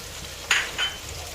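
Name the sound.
sautéing spring onions and spices in a pan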